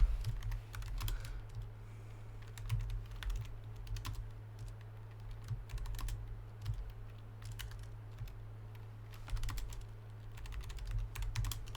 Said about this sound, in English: I was just typing to the captain